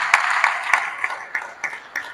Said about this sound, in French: J'en profite aussi pour vous demander d'applaudir fortement M. Zourab Kololis Kaveli